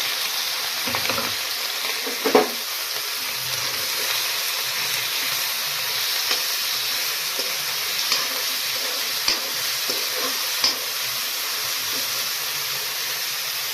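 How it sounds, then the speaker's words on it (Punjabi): Spice masala sizzling in very hot oil in a kadai for a cauliflower tadka, a steady close frying hiss with a few sharp spoon clinks and stirring knocks, no voices. "ਤੇਲ ਬਹੁਤਾ ਗਰਮ ਹੋ ਗਿਆ ਆ ਤੇ ਅਸੀਂ ਮਸਾਲਾ ਪਾ ਲਵਾਂਗੇ"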